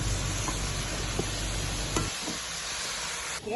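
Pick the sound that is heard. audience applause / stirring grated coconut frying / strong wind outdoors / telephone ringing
stirring grated coconut frying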